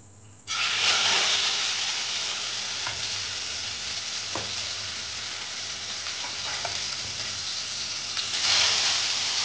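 Chicken pieces hitting hot oil and frying, a sudden loud sizzle that stays as a dense, steady hiss with small pops and crackles, close up and without talk.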